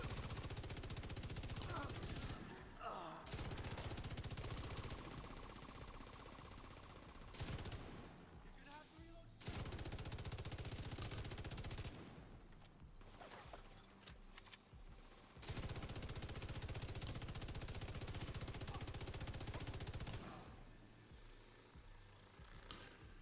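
Turret gunfire in Guild Wars 2 clatters in long, loud sustained bursts broken by short pauses, with the game's background sound running beneath.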